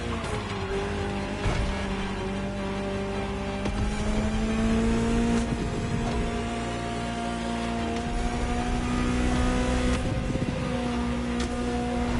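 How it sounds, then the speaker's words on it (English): A Ferrari engine in The Crew Motorfest video game hums steadily at cruising revs, climbing slowly in pitch, with faint tire and road noise underneath. "Just listen to the car you're driving."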